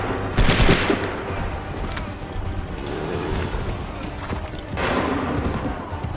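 Musket volley from an Assassin's Creed III battle: a loud crackling burst of massed gunfire near the start, then a steady rumble of battlefield noise and a second broad blast toward the end.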